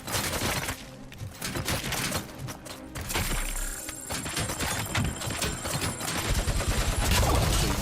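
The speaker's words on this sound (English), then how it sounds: "So he's rocking with the heavy machine gun." Heavy machine gun fire in the game RoboCop: Rogue City, heard as dense, rapid rattling bursts mixed with impacts and mechanical clatter, steady and loud throughout the clip.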